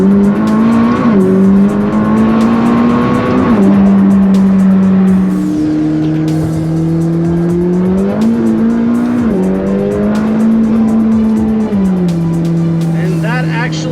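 A McLaren 600LT coupe accelerates hard, its engine roaring loud and close through several rising gear pulls, with brief drops in pitch at each shift.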